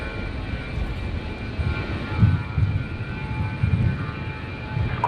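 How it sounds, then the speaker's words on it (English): A Fokker aircraft takes off at Brisbane airport, heard as a steady mid-distance engine rumble with a few louder low thumps and surges over roughly five seconds. "It sounds like something's taking off"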